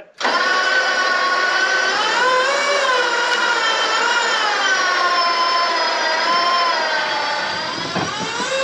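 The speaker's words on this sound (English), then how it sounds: "Go winch in." A winch whines steadily and loudly for several seconds, pulling a side-by-side onto a trailer outdoors, its pitch shifting slightly with the load before a few knocks near the end.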